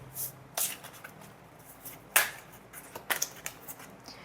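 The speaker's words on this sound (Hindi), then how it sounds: "और मैं इनको इसी तरीके से शफल करती हूँ।" Large animal oracle cards are shuffled by hand in a quiet room, making soft flicks and riffling bursts of card against card, with brief pauses between them.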